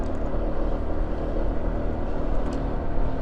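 A Honda PCX motorcycle riding early in the morning, a steady droning engine and rushing wind noise, loud and close throughout with no talk.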